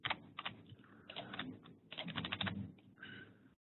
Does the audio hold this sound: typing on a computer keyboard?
yes